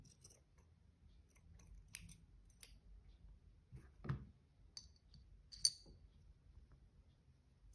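Scissors snip fabric for a shabby chic vintage flower, a few faint, close clicks and short cuts scattered over near silence.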